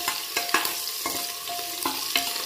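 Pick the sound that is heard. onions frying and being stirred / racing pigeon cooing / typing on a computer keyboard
onions frying and being stirred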